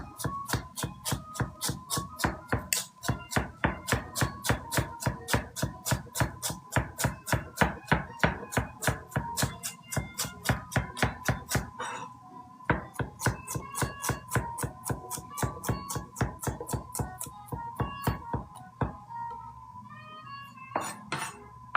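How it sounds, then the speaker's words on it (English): Knife mincing cilantro stems on a cutting board while making Vietnamese spring rolls, a fast, steady run of sharp chopping knocks, close and loud, with a brief pause partway and a few clinks near the end. "we're gonna continue mincing our cilantro stems"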